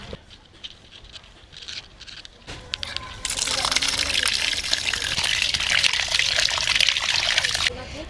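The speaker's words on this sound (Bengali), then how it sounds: "একে ভালো করে জল পাল্টে পাল্টে ধুয়ে নেব" Kadaknath chicken meat, black-skinned and fatty, being washed in water: a quiet start, then from about three seconds a steady loud splashing and trickling of running water that lasts nearly to the end.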